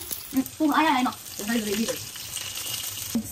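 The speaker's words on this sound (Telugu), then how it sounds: "సాంబార్ అట్ రెడీ అవుతుంది, దానిలో పోపు వేస్తుంది అనమాట." Sambar tempering sizzles and crackles in a hot pan in a home kitchen, moderately close, with someone talking over the frying.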